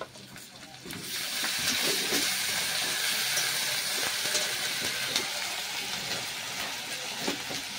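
Fried onion with ginger-garlic paste ground on a grinding stone, sizzling and hissing in a frying pan; a quieter first second, then a steady loud sizzle with faint clinks, no talk.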